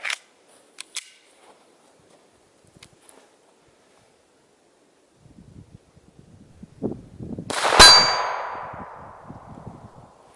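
A .22 caliber round from a Kel-Tec P17 pistol strikes a CrossFit weight plate downrange, a sharp metallic clang with a ringing decay near the end, preceded by faint scattered clicks and rustling.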